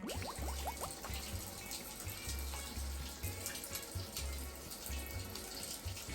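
Steady running water from a bathroom sink tap, filling and splashing as someone washes, continuous and close with no talking.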